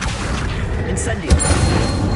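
Incendio fire spell in Hogwarts Legacy: a dense roaring whoosh of game effects swells with a heavy booming thud partway through, loud and close over a rumbling background.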